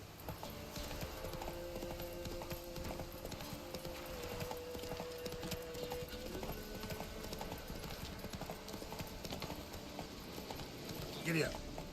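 Horse hooves clip-clop at a steady rhythm in a video game, continuous and moderately faint under game music and ambience, with a brief neigh near the end.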